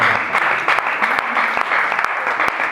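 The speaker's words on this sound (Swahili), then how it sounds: "pigia yeye makofi" A church congregation claps for a speaker at a service: dense, close applause with many hands that stays steady through the short stretch, with a few voices mixed in.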